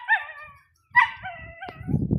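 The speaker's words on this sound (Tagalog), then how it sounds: "Aking asong laging kabuntot." A dog gives a few short, sharp barks and yips that pitch upward, with brief pauses between them, close by and loud, followed by rustling and shuffling noise.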